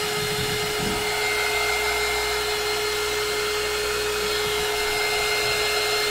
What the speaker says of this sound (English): Just a little heat gun